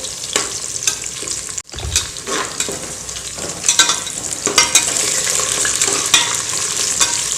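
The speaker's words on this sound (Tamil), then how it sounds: "பச்சை மிளகாவும் சேர்த்துடலாம். பொன்னிறமாக மாற வரைக்கும் வதக்கலாம்." Sliced onions and green chillies sauté in hot oil for chicken pulao, giving a continuous close sizzle broken by repeated spoon stirs and scrapes against the pan.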